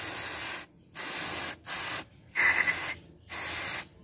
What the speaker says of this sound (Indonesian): setelah ini, kita akan menyemprot sensor dari MIF ini